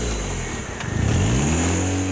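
A Raffo Belva car fitted with a 1.25-litre Zetec engine revs up close by, its engine note climbing and swelling louder over about two seconds.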